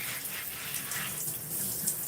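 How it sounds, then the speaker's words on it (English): A tap runs continuously during hair rinsing at a wash, a soft steady stream of water with faint splashing shifts, fairly quiet and with no speech. "start to rinse my hair"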